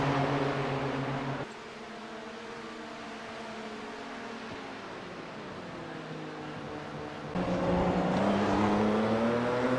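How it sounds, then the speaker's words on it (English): A gray Mercedes and other race cars roar past in a GT racing game at Daytona, their engines droning loudly with rising and falling pitch as they pull by in the slipstream, then a fresh, louder surge near the end. "That gray Mercedes just gets a nice bit of grunt. Uses a little bit of the slipstream. There he goes by."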